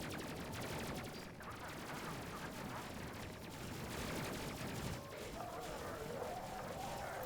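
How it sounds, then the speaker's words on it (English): Spaceship guns firing at enemies in the video game SpaceCrew make a dense, steady barrage of rapid shots lasting the whole stretch, mixed with game effects and no pauses. "Go back to shooting at the bad guys."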